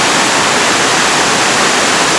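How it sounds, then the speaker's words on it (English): Loud, constant roar of rushing water at Meenmutty Waterfalls in Wayanad, Kerala, a dense, unbroken wash recorded close to the falls, with no voices audible. "Okay. Can you see that, guys? The waterfall. That's the Meenmutty Waterfalls."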